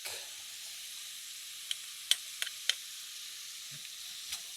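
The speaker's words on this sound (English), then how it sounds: "I just want to saute these onions until they're softened" Onions and garlic softening in a pan, a soft, quiet sizzle with a few sharp clicks and taps of a spoon against the pan.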